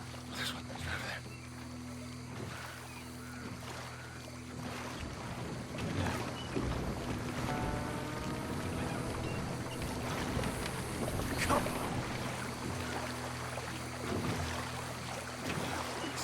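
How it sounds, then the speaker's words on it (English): A paddle steamer moves on the water in Red Dead Redemption 2, a steady low rumble and churn with wind and wash over it while a voice speaks. "A paddle steamer, huh?"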